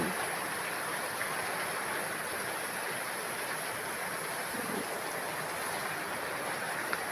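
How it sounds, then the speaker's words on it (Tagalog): Steady, dense hiss of heavy rain pouring continuously after a typhoon, a broad unbroken wash of water noise with no voices. "Mag-iiwan pa pala ng malakas na ulan."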